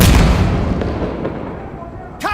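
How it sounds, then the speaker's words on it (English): Heavy artillery explosions in the video game Insurgency Sandstorm, a loud broadband blast at the start that rumbles and decays over about two seconds, followed by a voice shouting at the end. "Explosive artillery!"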